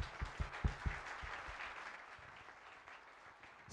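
A church congregation claps and cheers for Jesus during a worship service, dense applause that starts with a few sharp claps and then settles into a steady, moderately distant roar.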